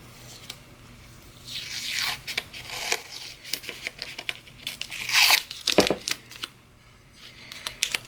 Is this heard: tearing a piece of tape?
yes